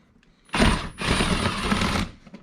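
Wrench or ratchet work on a 10mm bolt beneath the fender of a Yamaha YXZ side-by-side, heard as two close, loud bursts of metallic clicking and rattling separated by a brief pause.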